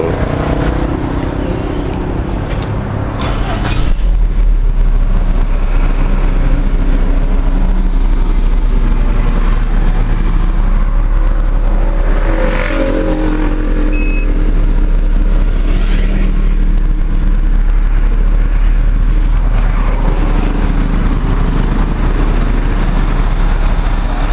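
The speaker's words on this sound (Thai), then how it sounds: "เดี๋ยวเรามาทำการสตาร์ทเครื่องยนต์นะครับทดสอบนิดนึง" A car engine on gas fuel starts after a gas filter replacement and injector cleaning, then settles into a steady, close, loud idle rumble that continues evenly for about twenty seconds.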